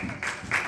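Brief bursts of audience clapping at a church sermon, two short swells of applause in quick succession.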